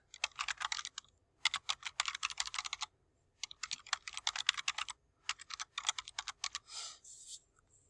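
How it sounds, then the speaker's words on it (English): Bursts of rapid key clicks on a computer keyboard as an email address is typed, coming in four quick runs separated by short pauses, close and crisp with no talking. "So you need to type in my address"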